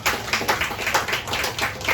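Audience applause, a steady patter of many hands clapping at close-to-mid distance, continuous and fairly loud over the whole stretch.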